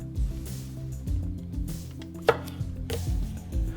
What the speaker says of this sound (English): I'm going to turn them into about a 1/4 inch slice